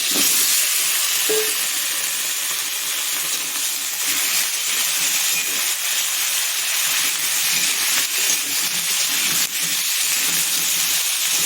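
Potatoes sizzling in hot oil for a vegetable dish with Malabar spinach stems and ginger, giving a steady, close broadband hiss with small crackles that continues without a break and with no voices.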